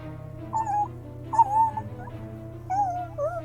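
A shivering, piss-stained dog whimpering in a few thin, high, wavering whines separated by short pauses, close by over a low steady background hum.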